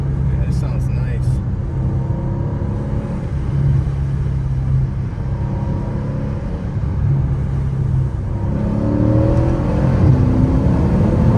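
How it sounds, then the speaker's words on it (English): A Mercedes CLS63 fitted with a GCA Performance valved exhaust revs hard in second gear at high RPM, giving a loud, steady deep roar throughout that swells near the end, with a voice talking over it. "second gear, high RPM. Yeah, this sounds nice."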